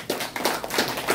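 Audience applause at the opening of a calligraphy exhibition in a gallery, a brief burst of scattered hand clapping at moderate distance, uneven and steady, with no voices.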